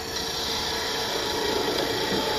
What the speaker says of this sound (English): So now I move to my slightly smaller spindle gouge.